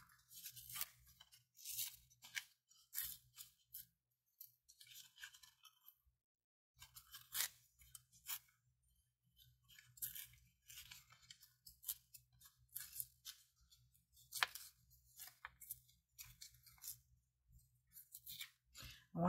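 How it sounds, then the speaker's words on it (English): Layer of paper being torn by hand in a quiet room, heard as short, close ripping and crinkling bursts separated by brief silences. "I'm going to take this next layer and I'm going to tear it."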